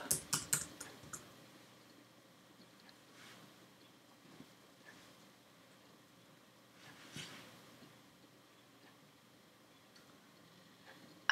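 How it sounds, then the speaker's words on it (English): Quick computer-keyboard typing clicks up close in a quiet room, a short flurry of keystrokes at the start followed by a few scattered soft taps and near silence, with no talking. "I'm going to type flip-flop"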